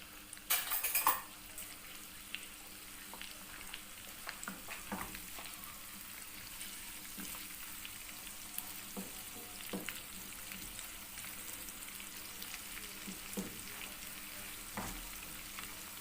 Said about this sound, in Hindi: साथ साथ इसको भी हिलाते जाइएगा ताकि ये नीचे ना लगे